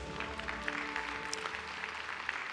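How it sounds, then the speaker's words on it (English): Forum audience gives a speaker a round of applause, a steady, moderately loud patter of many hands clapping throughout the short moment. "please give him another big round of applause"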